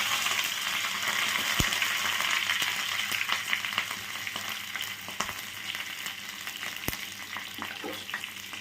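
White mustard seeds, a dried chilli and curry leaves sizzle loudly in hot oil, a dense steady crackle with scattered sharp pops and spits throughout and no speech.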